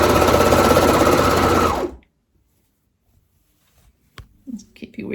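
Sewing machine stitching through fabric: a fast, steady, loud mechanical run for about two seconds that stops abruptly, followed by quiet handling sounds.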